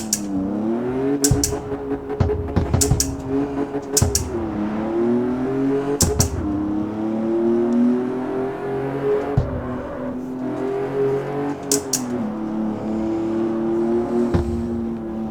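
Car engine in the CarX Street driving game holds a steady revving drone while drifting on dirt, pitch rising and falling gently, with occasional sharp clicks over it.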